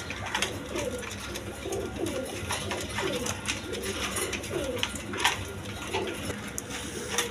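A pair of Bombay pigeons, red in colour, coo softly at close range in a loft, the low rolling calls repeating under a steady background of ambient noise and occasional clatter.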